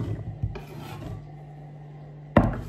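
A knife cuts apples inside a dish while making an apple cake, giving soft rasping slices, a brief knock near the start and a sharper cut toward the end, close and fairly quiet.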